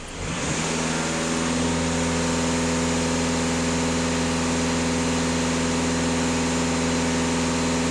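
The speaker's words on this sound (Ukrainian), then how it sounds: "Даю газ в пол 2500." A VW Passat 2.0 TDI diesel engine is revved from idle and held steady around 2500 rpm, producing a loud, constant droning hum with a strong even tone that stays level throughout.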